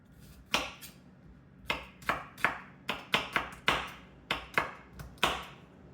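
Knife chopping onions on a cutting board during one-pot chicken and rice prep, a series of about a dozen sharp, close taps in an uneven rhythm, with no talking.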